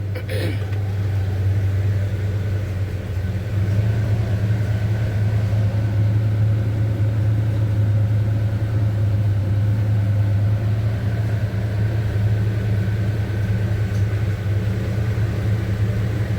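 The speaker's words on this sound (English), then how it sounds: "Let it run for just a minute and warm up just a little." A 1975 Chevy C10 truck engine warms up at idle, a steady low droning rumble that runs evenly and close by throughout.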